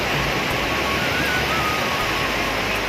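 Surf rolls onto the beach at Himchhari, Cox's Bazar, in a steady, dense roar of breaking water that fills the whole stretch without pause, with no voices over it.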